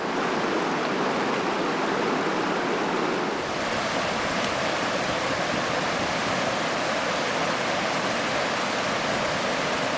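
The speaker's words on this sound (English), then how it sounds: "the meltwater streams grow more frequent too, tracing their paths down the slopes, fed by the towering glaciers" A glacier-fed meltwater stream flows down a mountain slope in the Everest region of Nepal, making a dense, steady rushing roar that swells louder after the first few seconds and stays continuous, with no voices.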